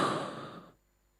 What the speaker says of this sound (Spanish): El sonido de la respiración.